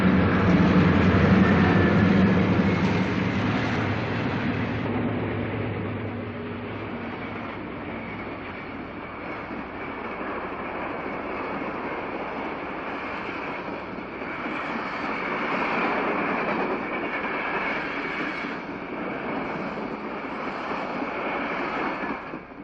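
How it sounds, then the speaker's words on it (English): Diesel passenger and local freight trains pull out of a station together, a steady low rumble of locomotive engines with broad noise, loudest at the start and holding level as they depart. "As the Twilight departs from the west side of the station, the local freight also departs."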